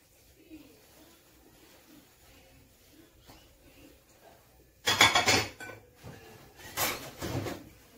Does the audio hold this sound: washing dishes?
yes